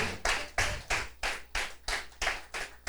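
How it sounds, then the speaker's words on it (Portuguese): Rhythmic clapping from a church congregation, about nine sharp, unison claps at a steady quick beat, each one crisp and distinct, with nothing else heard in between. "Você quer aplaudir ao Senhor?"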